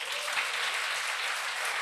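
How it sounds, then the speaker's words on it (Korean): A church congregation claps during a sermon, an even, continuous patter of many hands at moderate volume with no voice over it. "박수 안 나옵니까?"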